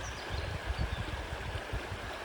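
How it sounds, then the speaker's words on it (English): Stream water flows on a French château property, a constant rushing wash with low gurgling pulses, steady and unbroken with no voices. "I'm sorry if I'm shouting, but the water is quite loud, so I want to be sure you can hear me"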